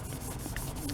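A scissors blade scrubbed with Bon Ami cleanser on a 3M Scotch pad, a short, steady abrasive rubbing close up.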